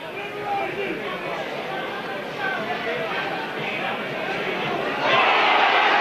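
A stadium crowd at a 1988–89 rugby league championship match between St. Helens and Featherstone Rovers boos, a broad, steady roar that swells near the end beneath continuous commentary.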